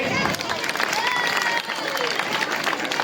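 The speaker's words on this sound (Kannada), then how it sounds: "ಜೋರಾದ ಚಪ್ಪಾಳೆ ಬರಲಿ" A crowd applauding at the unveiling ceremony of an equestrian Shivaji Maharaj statue, a continuous wash of clapping with some voices mixed in, moderately loud and sustained.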